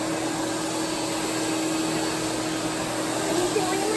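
A vacuum cleaner runs with strong suction, giving a steady, loud whine and airy roar with a constant tone, rising slightly at the very end.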